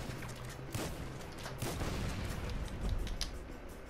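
Rapid machine-gun-like bursts from a weapon in the GTA V video game, loud and dense, with shots overlapping in a continuous fusillade throughout.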